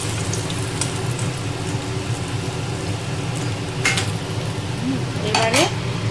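Fish frying in oil in a pan, with stirring and the clink of a utensil against the pan over a steady sizzle, close and fairly loud.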